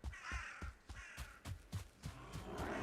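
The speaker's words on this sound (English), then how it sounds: "Okay, crows, that's good." Crows caw repeatedly in the survival game Valheim, a rapid series of harsh, clipped calls close by, with a soft wind-like hiss swelling toward the end.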